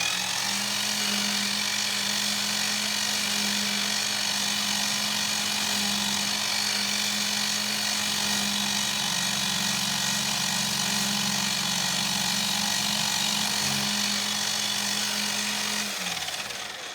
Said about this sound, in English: I got the center drill in there now.